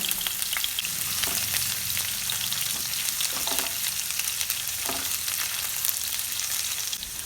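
Chopped ginger and garlic frying in vegetable oil in a pan, a steady dense sizzle with occasional soft stirring scrapes, close and continuous with no voices.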